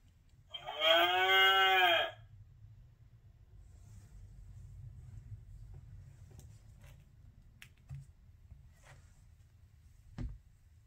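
A cow moo from an interactive sound book button for a farm scene rings out once, loud and harmonic, for about a second, followed by low rumbling background and a few faint clicks.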